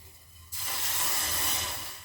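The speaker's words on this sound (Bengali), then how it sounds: "তো মা আমার গ্যাস অন করে দিয়েছে" Gas stove burner turned on for cooking corn soup, a quiet room giving way abruptly to a loud, steady close hiss that holds to the end.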